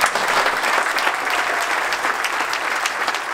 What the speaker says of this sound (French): Un tonnerre d'applaudissements pour Gervais Martel.